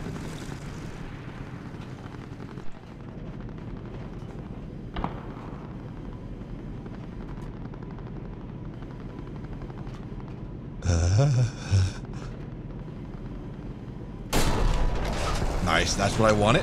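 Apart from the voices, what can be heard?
tank gunfire in video game War Thunder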